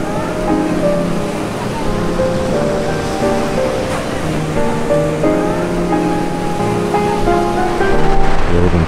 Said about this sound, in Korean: 파도가 장난 아니죠?